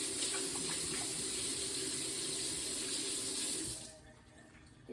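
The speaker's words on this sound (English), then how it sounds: "let me wash my hands off." Tap water runs steadily over hands being washed in a kitchen sink, a loud continuous splash that stops abruptly near the end.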